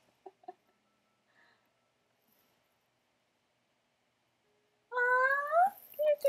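A cat gives a single drawn-out meow close by, loud and rising, after several seconds of near silence broken only by a couple of faint clicks.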